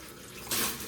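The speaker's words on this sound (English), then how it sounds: "You can wash your fruit." Fruit is rinsed under a running kitchen tap, with a soft steady stream of water that swells into a louder splash midway through the moment.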